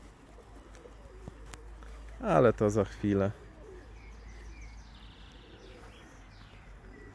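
A breeding pigeon from Kraków gives a short burst of deep, throaty cooing, close by, with a person speaking briefly before it amid quiet outdoor ambience.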